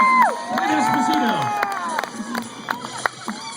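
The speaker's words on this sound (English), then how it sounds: "Give a round of applause" Crowd in the stands at Myrtle Beach Speedway cheering and whooping after a motocross rider is introduced, shouts and screams rising and falling, with scattered claps and voices over steady crowd noise.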